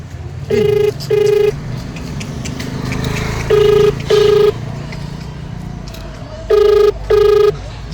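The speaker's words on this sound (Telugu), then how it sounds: "మనం అయితే ఫోన్ చేస్తున్నాం" An outgoing phone call ringing: three pairs of electronic ring tones with pauses between, over a low background rumble.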